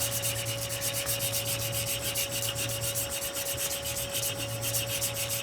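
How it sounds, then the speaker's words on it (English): Steady abrasive rubbing as a forged aluminum rifle lower receiver is polished down to remove the as-forged skin, a continuous close scouring hiss with a low hum running underneath throughout, no voices. "I have to pretty much polish off the whole skin of the as-forged surfaces"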